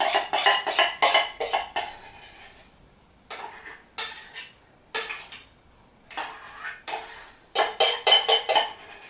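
Curried quinoa and strawberry salad is tossed in a bowl with serving utensils, giving repeated bursts of clinking and scraping strokes separated by short pauses, close and clear with no voices.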